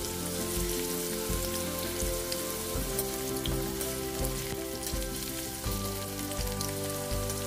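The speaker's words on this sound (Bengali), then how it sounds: "প্রথমে আমি আলুগুলিকে ভেজে নেব।" Potatoes frying in oil for a chicken aloo curry, a steady crackling sizzle like rain on a surface, close and continuous, with soft background music underneath.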